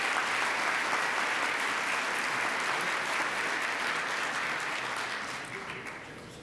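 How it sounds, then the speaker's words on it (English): Sustained audience applause at a Rotary meeting honoring a Jefferson Award for Public Service recipient, steady and full for several seconds before gradually tapering off. "So let's give Bill Shula a round of applause for his efforts"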